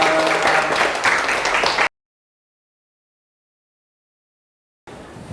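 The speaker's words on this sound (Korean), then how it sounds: "박수 부탁드립니다" Lecture-hall audience applauding at the end of a science talk on click chemistry, a dense burst of many clapping hands for about two seconds before cutting to silence, with faint room noise returning at the end.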